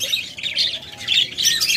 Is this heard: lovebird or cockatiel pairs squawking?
yes